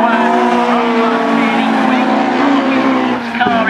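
A race car sweeps through Tower Bend at Castle Combe Circuit, its engine loud and close with shifting revs and a brief tire squeal near the end.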